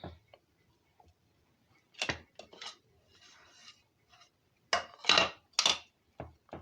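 Plum cake batter with grated orange peel being stirred in a bowl, heard as scattered bursts of scraping and clinking between quiet gaps, close by and moderately loud, with no talking.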